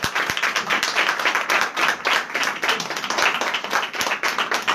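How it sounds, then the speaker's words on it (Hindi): A church congregation claps loudly and steadily, dense applause filling the whole stretch with no talking over it. "जोरदार तालियां।"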